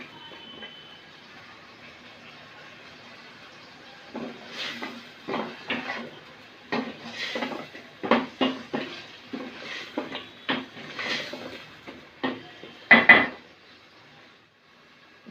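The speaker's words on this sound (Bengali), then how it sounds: "এখন দিয়ে দিচ্ছি আলু। আলুটাকে কিছুক্ষণ কষিয়ে নিতে হবে।" Potatoes fried and stirred in spice masala in a pan, a series of scraping, clinking strokes of a utensil against the pan in an irregular rhythm over a quiet sizzle.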